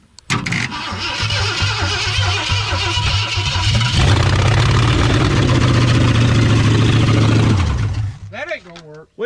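A 1963.5 Ford Galaxie 500 hardtop, unrun for 30 years, cranks and catches, then settles into a loud, rough, steady idle that runs for several seconds before cutting off, with brief talk at the very end.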